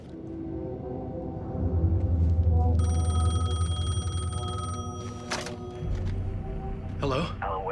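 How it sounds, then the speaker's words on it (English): A payphone rings in Alan Wake 2, its steady bell tone running through the middle of the stretch over low rumbling ambience, with a voice speaking near the end. "The payphone was ringing."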